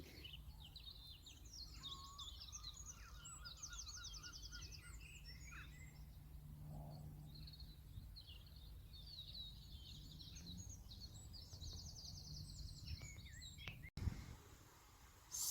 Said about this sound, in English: I'll just leave you for a moment with the sounds of these birds.